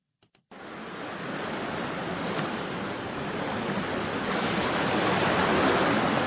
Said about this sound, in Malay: dengan bunyi ombak